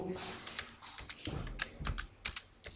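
Rapid typing on a computer keyboard while a stop-loss value is changed, a close, uneven run of clicky keystrokes with short pauses between bursts.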